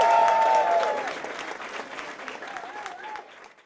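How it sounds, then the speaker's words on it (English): Audience applause at an evening event with Grant Morrison and Gerard Way, a loud burst of clapping that fades over a few seconds, with faint voices and some tonal sound through it. "Once again, a round of applause for these guys."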